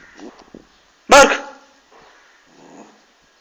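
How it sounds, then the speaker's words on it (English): A single loud dog bark, close by, with quieter indistinct sounds before and after and a second bark cut off at the very end. "Max, bark."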